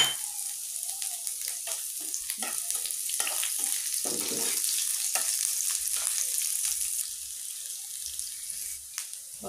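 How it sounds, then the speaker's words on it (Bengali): Chopped onions sizzle in hot mustard oil in a pan, a soft, steady crackling frying sound with occasional stirring clinks, close and moderately quiet, with no one talking. "তেলটা গরম হয়ে আসলেই আমরা দিয়ে দেব কিছু পেঁয়াজ কুচি"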